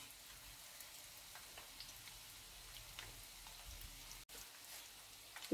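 Chicken croquettes in a homemade breading fry in hot oil, giving a steady, close crackling sizzle with scattered pops throughout and no voices.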